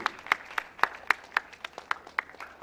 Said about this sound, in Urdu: اور تالیاں رکنی نہیں چاہیے جب تک یہ نہیں آئے